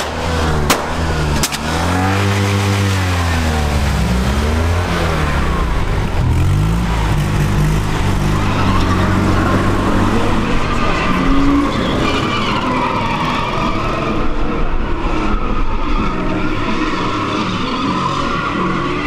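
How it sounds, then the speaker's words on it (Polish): A drift car with a gutted exhaust at a retro car and drift charity event in Kęty, 2015, revs hard and loud with sharp pops and backfires early on, then slides with continuous tyre skidding and roaring engine throughout. "Wybebeszony wydech. To sobie troszkę postrzela."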